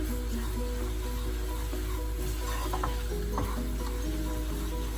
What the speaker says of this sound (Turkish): Salçamız kavruldu arkadaşlar